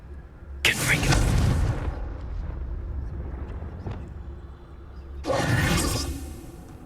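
A Confringo fire-blast spell from Hogwarts Legacy goes off twice: a loud, booming explosive whoosh, then a lingering rumble and a second blast a few seconds later, with no talking over it.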